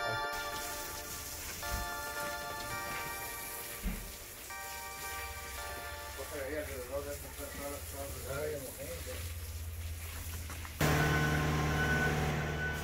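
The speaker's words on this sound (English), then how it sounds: "now that the concrete has arrived in a brand new truck" A brand new concrete truck arrives at a small backyard patio pour on a hot day, its reversing alarm beeping in a steady repeated series over engine rumble, while a person talks nearby.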